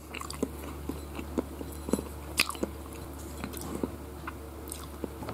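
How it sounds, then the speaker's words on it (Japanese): Steamed taro is bitten and chewed up close, with soft, moist crunches and squishy mouth sounds repeating at an irregular pace over a faint steady hum. "これはもう口で噛み切っちゃう。"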